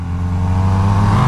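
Kawasaki Z900 or KTM Duke 390 motorcycle engine revving hard on throttle during a mountain hairpin ride, a loud, steady, close-up roar with strong low harmonics that climbs slightly in pitch.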